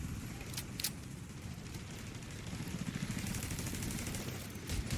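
Sustained secondary-weapon fire in The Division 2 rattles fairly quietly in rapid, continuous bursts against a dense background of game noise. No one speaks.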